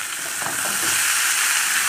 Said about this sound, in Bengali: পেঁয়াজ আর বিনস আমি একটু আগে থেকে ভেজে নিচ্ছি